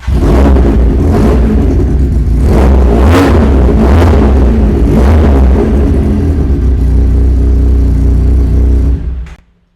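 A 300cc dual-cylinder motorcycle engine idles with a deep throbbing rumble and is revved several times in sharp, loud bursts, then cuts off abruptly.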